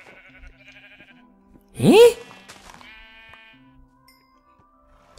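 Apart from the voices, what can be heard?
donkey sounds in video game Minecraft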